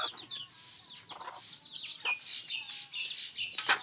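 Backyard hen, a mother with chicks kept tethered outside, gives soft repeated clucks and short calls close by, mixed with chirpy bird-like notes over a steady faint background.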